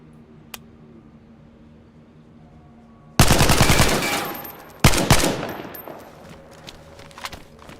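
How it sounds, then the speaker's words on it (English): Two loud bursts of AK rifle gunfire from the video game DayZ, the first starting around mid-clip and a second shortly after, each followed by a fading tail over quiet ambient background. "Want to hear the AK?"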